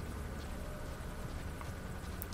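A helicopter hovers overhead in Metal Gear Solid 5, a steady, dense rotor drone that fills the whole stretch at an even level, with one brief sharp click near the end.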